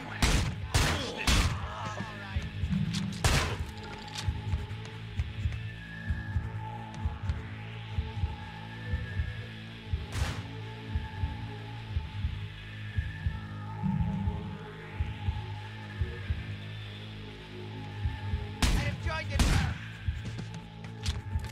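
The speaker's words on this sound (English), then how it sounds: "Like two shots every time" Gunshots in the stealth video game Manhunt, a few sharp loud reports scattered through a stretch of game music and ambient rumble, some in quick pairs, with a voice speaking at times.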